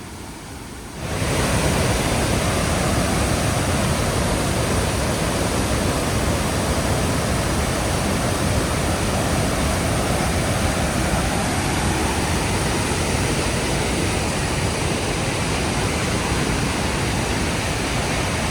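Great Falls roars continuously and loudly, a dense, unbroken wall of crashing water that starts abruptly and holds steady throughout.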